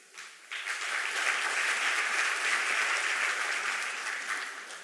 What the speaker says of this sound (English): everybody deserves a round of applause